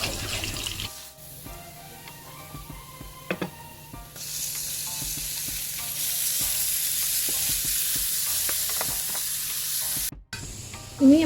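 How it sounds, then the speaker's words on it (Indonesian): Garlic and onion sautéing in a pan until soft and fragrant, a continuous sizzle that swells louder midway, with scattered utensil taps, close up, no talking. "Ini kita tumis bawang putih dan bawang bombay ya, sampai harum dan layu."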